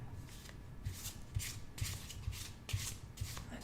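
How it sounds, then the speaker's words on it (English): A deck of cards being shuffled in soft repeated riffling bursts, quiet and close, with a steady rhythm and no talk. "I'm going to give the cards a little bit of a shuffle while you're making your decision"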